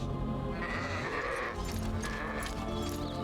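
A sheep in the fantasy game Arcania bleats in several drawn-out, wavering calls, close and clear over a low game ambience with no talking.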